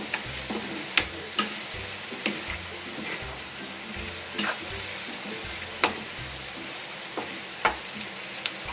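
A spatula or spoon stirs creamy chicken with mushrooms in a home pan, giving soft scraping strokes and small clicks at an uneven rhythm over a steady low sizzle, close and fairly quiet.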